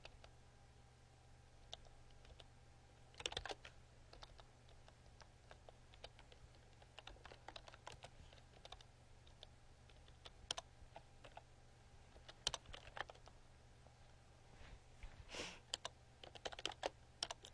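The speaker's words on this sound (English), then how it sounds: "my typing is not so stellar today" Fast, uneven typing on a computer keyboard, close and fairly quiet, with bursts of sharper key clicks and brief pauses between runs, no talk.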